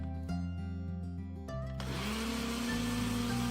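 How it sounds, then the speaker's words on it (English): Kitchen blender running loud and steady as it whips cream sweetened with powdered sugar, motor pitch shifting partway through as the thickening mix loads the blades, with no voices. "One more blast of the blender and it's completely ready."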